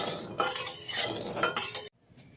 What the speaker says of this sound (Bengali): দিয়ে দিচ্ছি কিছুটা পরিমাণে লবণ দিয়ে খুব ভালো করে একবার মিশিয়ে নেব